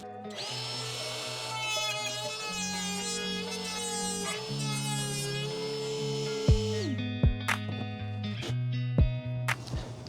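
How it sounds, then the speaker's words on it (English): A wood router whines at high speed with shifting pitch as it cuts through wood, then spins down amid a few sharp clacks and knocks. "The last power tool is my router. Let's give this a try."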